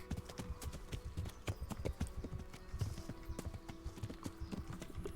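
Hooves clip-clop in a brisk, regular rhythm as a horse moves in the video game Kingdom Come: Deliverance, with sharp close strikes over a low background of game ambience and occasional faint tonal sounds.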